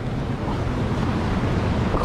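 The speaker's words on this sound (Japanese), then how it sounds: "相当雨降ってるよこれ" Heavy monsoon downpour near the sea in Kerala, India, a loud, constant rushing wash mixed with wind buffeting the microphone and likely surf, with no talking.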